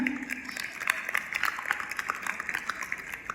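Applause from a school quiz audience, a steady patter of many hands clapping at moderate volume with no break.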